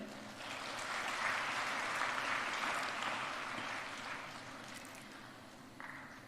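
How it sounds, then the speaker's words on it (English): Students at a university first-year inauguration give parents a round of applause, a soft, distant wash of clapping in a large hall that swells and then slowly fades. "all the parents those are sitting here today deserve a big round of applause by all the students"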